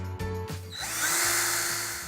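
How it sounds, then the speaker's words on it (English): Power drill with a 5/16 inch bit boring into drywall: a couple of brief motor revs give way to a loud, sustained, close grinding as the bit cuts through. "it's just drywall, so I'll use a 5/16 inch drill bit."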